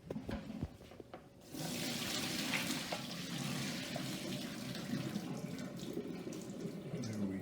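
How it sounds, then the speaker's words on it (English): Cooked pasta water being drained into a kitchen sink, a steady loud rush of pouring water that begins about a second and a half in after a few clinks and continues unbroken to the end. "we're just going to drain that over here"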